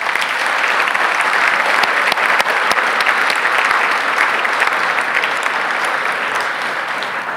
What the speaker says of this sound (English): Let's give them all a big applause.